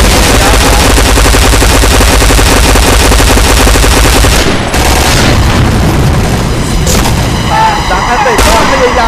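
Loud, continuous automatic gunfire from the shooter game Point Blank fills the whole stretch, rapid bursts and booms layered over a commentator's voice, with brief breaks in the second half.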